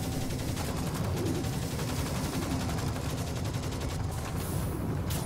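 Rapid turret gunfire in the video game Firefall, a steady dense stream of shots continuing throughout at moderate loudness with no speech over it.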